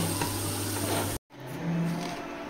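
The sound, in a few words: spice paste with turmeric and cumin frying in a pan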